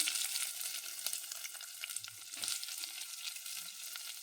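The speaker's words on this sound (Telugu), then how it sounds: "ఇవి తడతడ అంటున్నప్పుడు ఉల్లిగడ్డలు వేసేద్దాం" Onions added to hot crackling tempering oil with turmeric, a close, steady frying hiss with light pops and a few stirring scrapes throughout.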